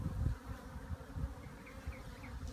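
Honeybees from a hive that began as last year's swarm drone steadily during an inspection, a low continuous buzz with faint higher whines drifting through, fairly quiet and with no talking.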